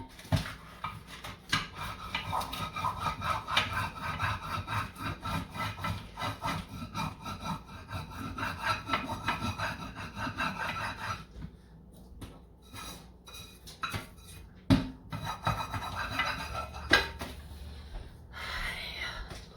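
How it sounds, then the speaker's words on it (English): A stovetop is scrubbed clean with quick back-and-forth rubbing strokes, a close, rhythmic scratchy scouring that pauses briefly and resumes, with some quiet speech in the background. "I need to kind of scrub that out this morning."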